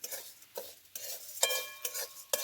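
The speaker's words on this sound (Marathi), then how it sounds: "हे आता मुगाची डाळ आपण ह्याच्यामध्ये टाकून घ्यायची कढईत. आपण आता ह्याच्यात थोडंसं तेल टाकून घ्यायचं." Mung dal roasting in a little oil in a kadhai, heard as bursts of rough scraping and stirring strokes at an uneven rhythm with a light sizzle and a few metallic clinks.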